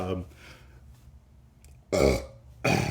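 A couple of loud, close belches in a garage, the second deep and throaty, separated by a quieter stretch with some murmuring voice at the start.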